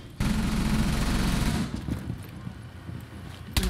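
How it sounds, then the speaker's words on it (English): Sustained burst of automatic gunfire in the tactical shooter Rainbow Six, loud and continuous for over a second, then fading into scattered quieter shots and game noise, with a sharp bang at the very end. "I shot Thermite. But, didn't hit him"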